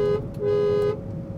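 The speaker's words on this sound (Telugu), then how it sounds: "సో లోపల నుండి హార్న్ సౌండ్ అయితే కనుక" An aftermarket BMW X5 horn fitted to a Volkswagen Vento, heard from inside the car: a muffled steady honk lasting about a second, with a brief break near the start and a faint background hum.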